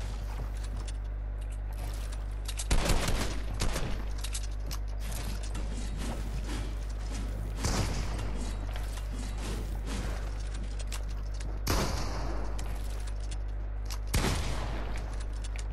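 Gunfire in the Fortnite video game, with bursts of shots around three, eight, twelve and fourteen seconds over a steady low hum and scattered mechanical clicks, no talking.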